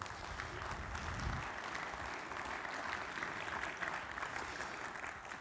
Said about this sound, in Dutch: Dames en heren, uw applaus.